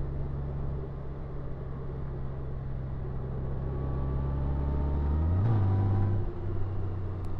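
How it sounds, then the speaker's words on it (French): A Honda Goldwing touring motorcycle rides along with a steady low engine drone and road rumble, then revs rise briefly and drop with a small jolt as it downshifts a gear, the engine settling back to a steady hum. "Elle donne un petit à-coup au passage de vitesse pour rétrograder."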